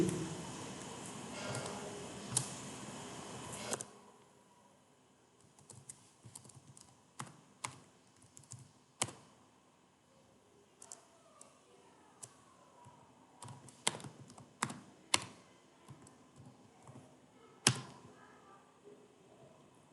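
Typing on a computer keyboard while entering a field name in Microsoft Access, with sparse, irregular, crisp key clicks close by that follow a few seconds of steady broadband noise at the start.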